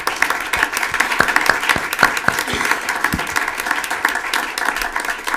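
Round of applause at a city council meeting, a steady wash of many hands clapping from the room with a few sharper nearby claps standing out, no talk over it.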